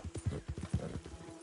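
Horse hooves clip-clopping in the video game Red Dead Online, a steady galloping rhythm of close, thudding low beats over about a second and a half, with no talk.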